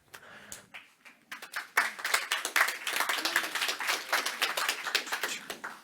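Applause from a conference audience as a speaker takes the stage, starting with a few scattered, separate claps, then building after a second or two into brisk, crowded clapping that keeps going at a steady level.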